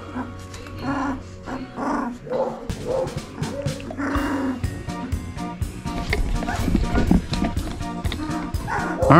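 A small feisty female dog growls steadily and close by, mixed with a few barks and yips, while other sounds clutter the background outdoors near burn piles.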